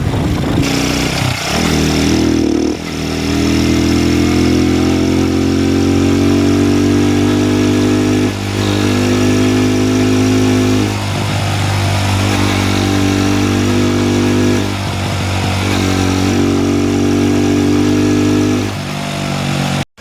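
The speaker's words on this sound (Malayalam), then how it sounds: "കൈ എടുക്കുമ്പോൾ ഇങ്ങനെ സ്പോർട്സ് ബൈക്കിൻ്റെ ടൈപ്പ് ശബ്ദം നമുക്ക് കേൾക്കാൻ പറ്റും" A motorcycle fitted with a homemade air filter cut from a juice bottle idles close by, a loud, steady, throbbing drone that holds for twenty seconds with slight dips in pitch and no talking.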